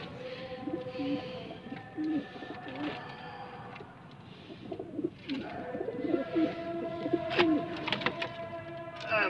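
Pigeons coo softly at night, repeated low rounded calls rising and falling in overlapping phrases from a few birds nearby, with quiet background between calls.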